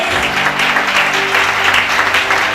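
A church congregation applauds during a Sunday worship service, a dense, steady wash of clapping that fills the room for its whole length, with faint sustained tones humming underneath.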